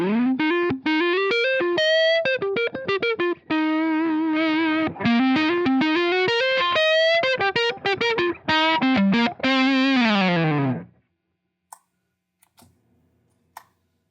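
An electric guitar plays a run of notes through a thick, buzzy jumbo fuzz pedal distortion, sliding between pitches, then stops abruptly into near silence with faint clicks.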